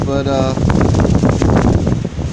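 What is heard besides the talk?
strong nor'easter wind blowing outdoors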